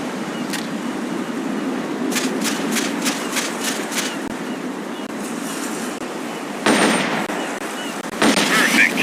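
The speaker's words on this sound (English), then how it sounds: "The M16 is a standard assault rifle, capable of rapid fire." Bursts of M16 assault rifle fire in the video game Metal Gear Solid: Peace Walker, quick cracking shots spaced through a dense, noisy game soundscape, with a few louder bursts near the end.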